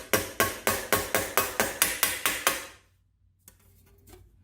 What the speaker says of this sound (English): We'll use that and a ball peen hammer and hammer out these little problem